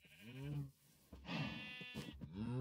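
Sheep in the Minecraft video game bleating, several wavering bleats in quick succession, clear and close with no talk.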